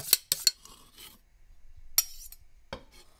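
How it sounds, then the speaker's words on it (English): A metal spoon scrapes orange zest off a grater in a few quick, bright rasping strokes with light metallic clinks, separated by near silence. "I'm just going to take a spoon and scrape that off the grater"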